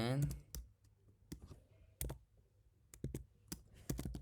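Scattered keyboard clicks ring out sharply as Python code is typed, irregular single and paired taps with quiet gaps between them, a brief voice heard at the start.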